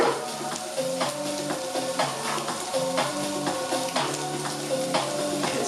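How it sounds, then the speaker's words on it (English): Diced pancetta sizzles steadily in a hot pan for a classic carbonara, a continuous close crackle and spit that runs under a rhythmic melodic music track throughout. "Pancetta going nicely there."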